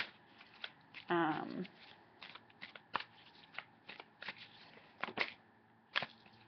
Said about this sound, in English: I do feel like I want to pick one more mermaid card.